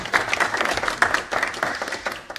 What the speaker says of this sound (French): Donc, on peut l'applaudir.